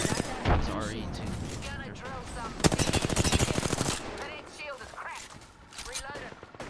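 Rapid video-game gunfire rattles in bursts, with a dense automatic stretch in the middle, mixed with excited voices of players talking over it.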